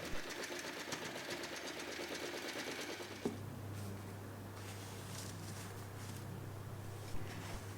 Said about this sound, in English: We are going to sew along the sides, but leave a small opening at the lining.